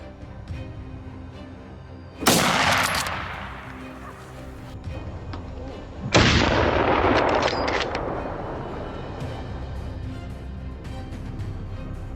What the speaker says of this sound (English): Through the scope, dark figures moved. I held my breath, waiting for the perfect moment. Then I fired.